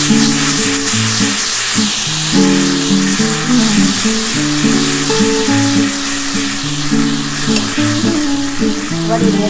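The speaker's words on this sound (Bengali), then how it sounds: "যেটুকুনি তেল আছে এই তেলের মধ্যে এবার আমি কিন্তু এই মশলাটা দিয়ে দিচ্ছি" A ground paste of green chilli, ginger, garlic and onion fries loudly in a little oil with tomato, a dense close sizzle and bubbling that runs unbroken throughout.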